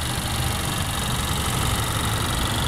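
A 2017 Honda Accord Sport with a direct-injected engine idles steadily and close by, a constant smooth hum with a faint ticking texture and no change in pace.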